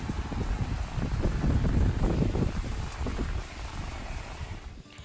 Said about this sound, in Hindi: काफ़ी बारिश हो रही है बाहर।